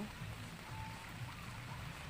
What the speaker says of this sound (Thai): ฝนตกลงเม็ดตอนนี้นะ เจ็ดโมงแปดโมงเช้า